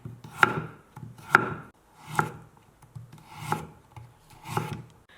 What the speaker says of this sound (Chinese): 给它斜刀切成菱形小块，然后呢给它立起来切成片。